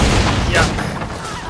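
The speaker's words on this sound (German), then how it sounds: "Drücken Sie Y, um mit der Pistole auf markierte Ziele zu schießen." Pistol shots in the video game Assassin's Creed 3 on Xbox 360, a loud close burst of sharp reports with booming tails, packed into a short moment.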